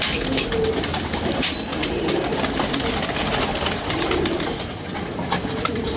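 Pigeons coo in a dense, close outdoor flock, soft throaty calls overlapping among constant flapping, shuffling and other bird noise.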